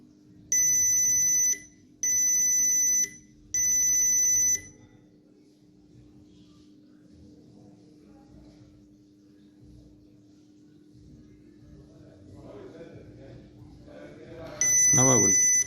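A Volkswagen Jetta MK5 dashboard cluster gives three even, high-pitched chime tones in a row after the ignition is switched on. Quiet rustling and faint voices follow, and then a fourth chime sounds at the end.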